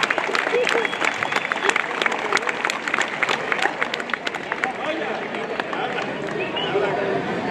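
Crowd applause and scattered sharp claps at a bull-riding anniversary event in Tonaya, Jalisco, loud at first then thinning, with an announcer talking over it.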